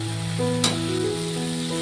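Steady crackling sizzle of fried potatoes in spiced oil with prawns, with a brief louder clatter partway through as more goes into the pan.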